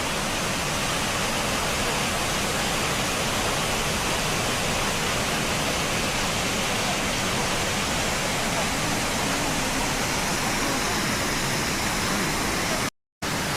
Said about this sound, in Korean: 전망대 앞에 보기 좋은 폭포가 있지만 용탕 폭포가 아니고 이름은 모르겠습니다.